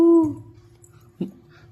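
A child gives a short high whimpering dog-like call, then a brief second yelp, imitating a dog in a quiet room.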